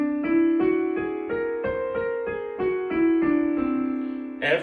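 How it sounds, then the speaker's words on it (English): Piano plays a whole tone scale, ten or so evenly spaced notes stepping upward in a steady rhythm, each one ringing clearly with sustained tone, close and alone. "we call that the whole tone scale,"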